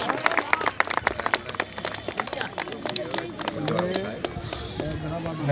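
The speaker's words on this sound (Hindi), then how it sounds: "जोरदार तालियां" Spectators applaud a sniffer dog clearing three obstacles at once during a security force canine unit demonstration, crisp close clapping mixed with crowd chatter and a voice talking over it.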